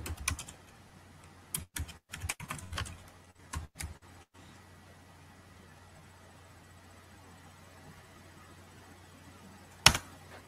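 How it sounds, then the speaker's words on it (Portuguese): Computer keyboard typing comes in quick irregular bursts of clicks over the first few seconds, then fades into faint room hiss, with a single sharp keystroke near the end. "O Felipão tá digitando."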